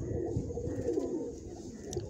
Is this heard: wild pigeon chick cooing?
yes